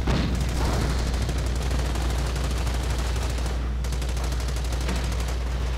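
Rifle gunfire in a World War II strategy video game, heard as rapid, continuous crackling shots over a steady low rumble, with one brief dip in the firing partway through.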